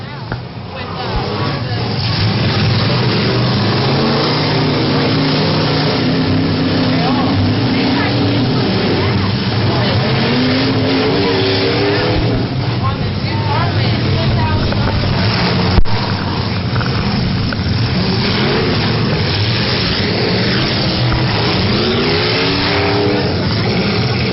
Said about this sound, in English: the action is underway here in the big truck round of the smash it, crash it, tear 'em up automobile demolition derby